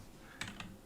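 Two quick keystrokes on a computer keyboard, soft, close clicks about a fifth of a second apart against a quiet room, with no voice.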